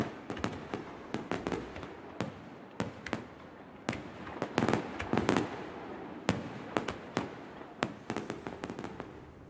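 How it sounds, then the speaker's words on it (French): A fireworks display in Bordeaux pops and crackles at a distance, with irregular sharp bursts scattered over a steady rumbling background and no voices. "ce sont 9 spectacles pyrotechniques qui sont prévus dans Bordeaux et la région cette semaine"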